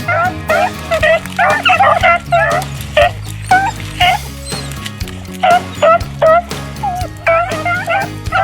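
Hunting dogs bark, yip and whimper excitedly while chasing rabbits along a windrow on river bluffs, a rapid, overlapping chorus of close, loud barks.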